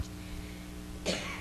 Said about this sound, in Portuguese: Não posso falar muito, porque dá tosse.